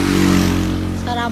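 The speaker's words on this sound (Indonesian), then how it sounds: "Suara motor." A motorcycle engine drones close by on a night street in Lembang, a steady low rumble that shifts in pitch as it passes, with faint clatter in the background.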